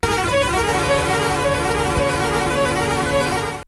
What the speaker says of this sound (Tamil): காற்றை கிழிக்கும் ஹாரன் சத்தத்துடன்